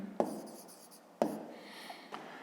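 A pen writes on paper during a fifth-grade maths lesson, with two sharp taps of the pen tip, each followed by soft, quiet scratching strokes.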